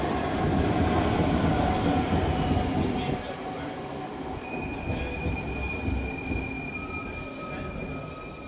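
Intercity train rolling along the rails with sustained high-pitched wheel squeal over a heavy, steady rumble that eases slightly partway through.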